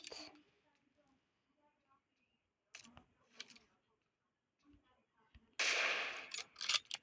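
Game gunfire from a headshot: sharp bursts of loud shots, one near the start and a louder crackling cluster near the end, with quieter clicks and bits of game audio between.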